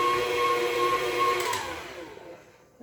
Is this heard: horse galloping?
no